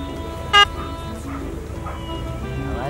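A car horn honks once in a vehicle combat video game, a short, loud blast near the start over steady engine and background noise.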